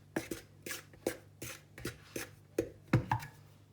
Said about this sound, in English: I'm going to stir to give it a mix using my wooden spoon